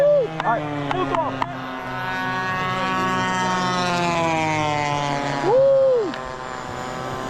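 RC P-51D Mustang model airplane with a twin GP76 engine at full throttle, a loud sustained buzzing drone with pitch sweeps as it passes, with a shout and voices over it outdoors.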